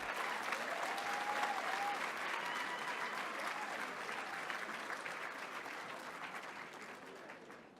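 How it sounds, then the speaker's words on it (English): Banquet guests give a sustained round of applause, a dense crowd of clapping hands that holds steady and then eases off slightly toward the end, with no one talking over it. "Would you join me in giving them one more round of applause?"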